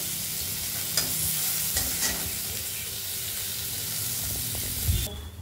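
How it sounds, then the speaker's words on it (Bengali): Steady bright sizzle of garlic frying in hot oil, with a few scraping stirs and clinks, continuous and close, no voices. "এটা গার্লিকটা মা ভেজে নিচ্ছে।"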